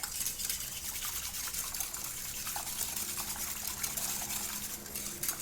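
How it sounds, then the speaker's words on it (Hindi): Yeast, sugar and liquid stirred together in a bowl, a soft continuous swishing and sloshing, fairly quiet and without any talk. "अब इन तीनों चीज़ों को हम अच्छी तरह से मिक्स कर देंगे।"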